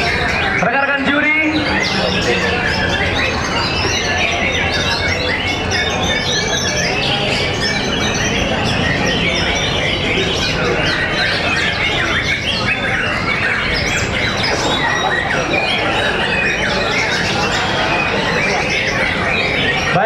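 White-rumped shamas (murai batu) sing at a songbird contest in Bogor, a dense, unbroken tangle of loud chirps, whistles and squawks running throughout over crowd noise.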